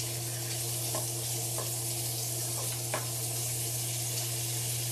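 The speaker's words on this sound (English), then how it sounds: "I'm going to throw in my bacon and get my bacon browned up in here." Bacon frying and browning in a pan for Southern fried cabbage, a steady, dense sizzle throughout with a constant low hum underneath and a few faint clicks.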